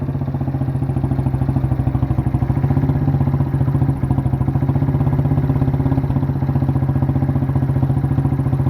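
A tiny quad ATV's engine idles steadily while warming up, a close, even, rapid chugging pulse with a metallic clatter that holds constant throughout, with no voices.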